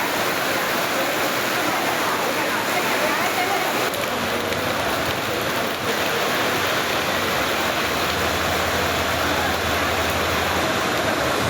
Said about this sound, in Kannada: ಭಾರೀ ಮಳೆಯಿಂದಾಗಿ ರೈಲು ನಿಲ್ದಾಣದ ಒಳಗೆ ನೀರು ನುಗ್ಗಿದೆ